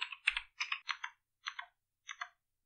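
A command being typed on a computer keyboard: a short run of distinct, crisp key clicks in small clusters with pauses between, close and quiet in an otherwise silent room.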